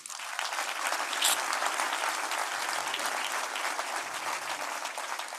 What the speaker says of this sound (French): je voulais m'assurer que vous les applaudissiez avant de disparaître